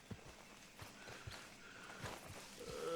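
Horse hooves clip-clopping in Red Dead Redemption 2, a quiet, uneven run of soft thuds spaced every few tenths of a second, somewhat distant and faint under low game ambience.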